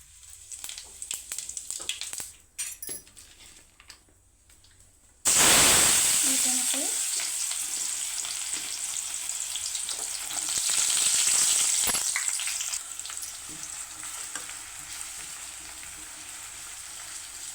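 Cumin seeds hit hot oil in a kadai with a sudden loud burst of sizzling that stays strong and steady, easing slightly over time, with no talking.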